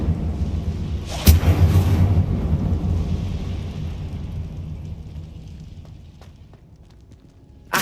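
A whooshing burst of the Incendio fire spell in the video game Hogwarts Legacy, loud and sudden at first, then a roaring, rumbling blaze that fades slowly, with a sharp crack at the very end.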